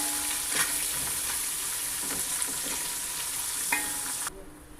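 Sliced onions fry in hot oil in a pan for a chicken dum biryani, a close steady sizzle with scraping stirs. The sizzle cuts off abruptly near the end.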